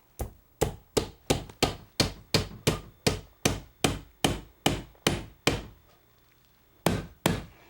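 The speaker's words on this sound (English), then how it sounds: "take a hammer and a couple of nails. Hammer them in about an inch from the back" Steady hammer blows strike nails into wood, a dozen sharp regular knocks, then a pause and a couple more hits, close and alone.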